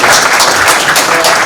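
Audience applause at a Korean science forum anniversary event, a steady dense wash of many hands clapping together, loud and sustained throughout with no pauses.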